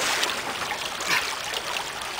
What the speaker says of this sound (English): So I'm going to dip it in this deeper water.